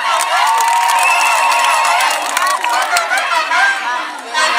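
Crowd noise at a Kenya Kwanza political rally in Nyaribari Chache, a loud, dense outdoor roar of cheering, shouting and chatter that swells and dips, with voices heard throughout.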